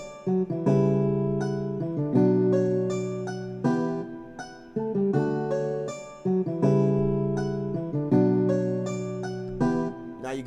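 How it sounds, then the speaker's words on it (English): Synthesized cello sound built into a hip-hop beat, playing short sustained bowed-style notes in a repeating rhythmic pattern with regular pauses, clear and upfront with no voices. "And then here's the cello sound I created."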